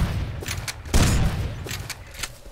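Gunfire in the survival video game Rust: a few scattered shots, then a heavy loud burst near the middle, followed by several more spaced, fainter reports against a dull background.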